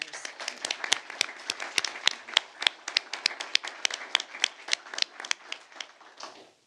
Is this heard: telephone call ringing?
no